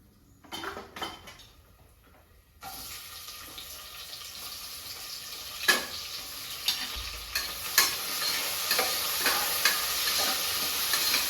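Whole biryani spices crackling and sizzling in hot oil, quiet at first with a few clinks, then a steady frying hiss with occasional sharper pops.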